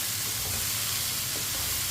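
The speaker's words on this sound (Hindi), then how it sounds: "अब इसे 2-3 मिनट के लिए दोबारा फ्राई कर लेंगे दोनों चीज़ों को" Tomato and onion frying together in a pan for besan bhindi, a steady, even sizzle that stays alone and fairly close throughout, with no talking.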